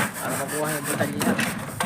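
Hand carving of styrofoam for a decorative design, a steady scraping and rasping as the blade cuts through the foam, close and continuous over the full length with a few stronger strokes near the end, no talk.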